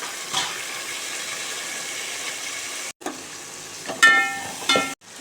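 Tomatoes frying in hot oil in a pan for a village-style chicken curry, giving a steady soft sizzle with a few brief stirring clatters and short pauses.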